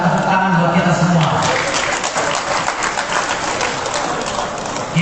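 Crowd applause at a football association congress in Indonesia, a broad sustained clapping wash with a voice speaking over the start, continuing loudly to the end.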